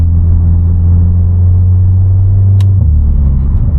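A 280 hp VW Polo GTI (AW facelift) engine idles and rumbles loudly up close in sport mode, a deep steady drone that shifts lower near the end, with a brief click midway.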